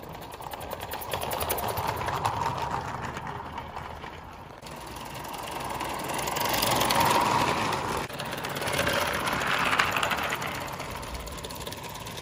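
A live steam Bowman 265 locomotive with worn cylinders running on a garden track, giving a continuous mechanical clatter and rhythmic chuffing that swells and fades as it moves nearer and farther.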